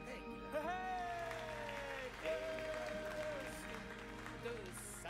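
Applause from a crowd of students in the great hall of the video game Hogwarts Legacy, a steady sparse clapping wash running under game music with a sung melodic line.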